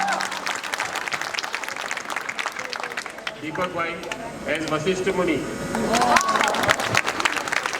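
An audience claps at an amateur Ramleela performance in a residential complex, the applause building beneath an announcer who keeps introducing cast members over it.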